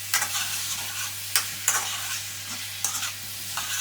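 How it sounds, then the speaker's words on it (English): Garlic and ginger paste stirred into a frying curry base for thick Indian curry sauce, a constant soft sizzle punctuated by several brisk scraping strokes of a spoon against the pan. "we'll only add in a wee teaspoonful of your garlic and ginger paste. Just stir that into it."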